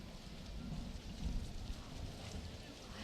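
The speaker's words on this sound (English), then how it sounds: "It's starting to rain." Rain beginning to fall at an outdoor Veterans Day parade in Waco, a soft continuous hiss of drops with low rumbling swells, fairly faint and steady, without voices.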